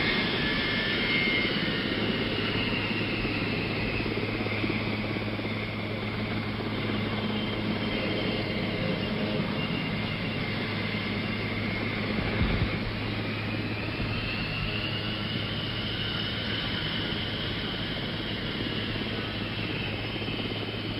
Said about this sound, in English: Now the big plane pulling away from the apron here at Andrews.